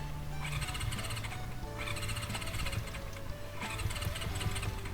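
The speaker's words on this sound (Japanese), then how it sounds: "外に出てちょっとエンジンかかるかどうかやってるんですけどね" A 30-year-old Kawasaki GPZ400F motorcycle engine with FCR28 carburetors is cranked repeatedly outdoors in rhythmic whirring bursts, sputtering but not catching, heard steadily with mechanical rattle throughout.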